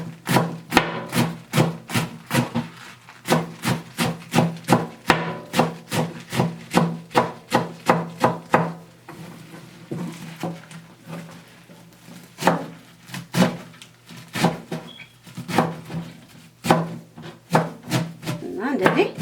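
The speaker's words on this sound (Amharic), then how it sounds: "እየከተፍኩ ስለምናገር ምናልባት የቢላው ጩኸት ሊከለክላችሁ ወይም እንዳሰሙ ልትሆኑ ትችላላችሁ" A knife chops kale and collard greens on a cutting board for Ethiopian gomen, sharp rapid thunks in a steady close rhythm, pausing midway before resuming in looser bursts.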